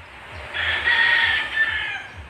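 A rooster crows once, a strained drawn-out call rising over soft clucking from chickens in a small hillside coop, fairly close and with no talk.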